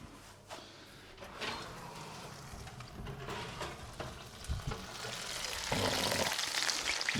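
Roast crown of pork lifted out of a hot oven, sizzling steadily in its tray with crackling fat, joined by clattering of the oven and tray, the hiss growing louder and brighter toward the end.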